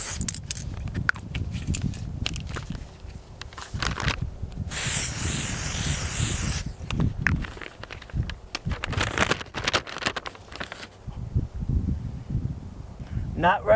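A can of spray paint lets out one close, loud hiss lasting about two seconds. Before and after it come speech and rustling handling noises.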